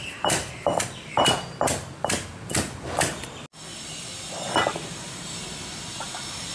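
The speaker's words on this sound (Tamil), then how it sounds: "அதையும் இதில் போட்டு ஒன்றுக்கு ரெண்டாக தட்டிக்கலாம்." Small onions being pounded coarsely in a mortar, about eight sharp rhythmic thuds in quick succession, close and loud, followed by a quieter stretch with a couple of faint knocks.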